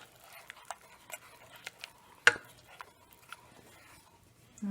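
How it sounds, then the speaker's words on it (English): A spoon stirring a thick butter and curry mixture for a slow-cooker coconut chicken curry, giving quiet irregular clicks and scrapes against the pot, one louder knock, fairly close and soft overall. "and then we're going to stir it up"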